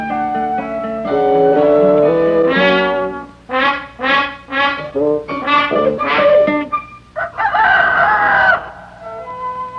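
A farmyard rooster crows loudly and close by in a long, ringing series of calls with clucking chicken sounds mixed in. No people speak.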